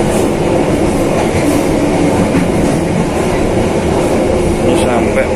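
Ambarawa Xpress Premium passenger train running at steady speed as it nears Kradenan station, heard from inside the carriage: a continuous loud rumble with rhythmic rail clatter and occasional faint wheel squeal.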